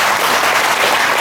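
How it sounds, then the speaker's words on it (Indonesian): Steady, dense applause from an audience at a Guru Puja and Guru Yoga teaching, filling the short moment evenly with no voices. "Tepuk tangan."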